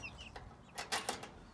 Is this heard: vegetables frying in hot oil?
no